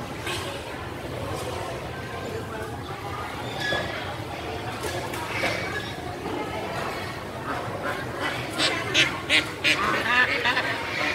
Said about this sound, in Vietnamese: Ồ, có 2 con ngỗng.